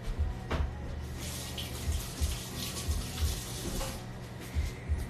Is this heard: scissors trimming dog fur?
no